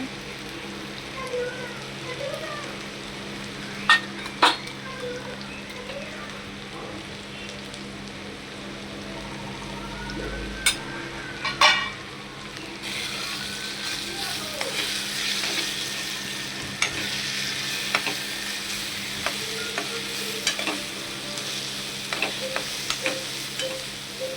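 Spices sizzling and frying in a pan for a bombil and potato dish, a soft continuous crackling hiss with occasional clinks and scrapes of stirring, heard alone.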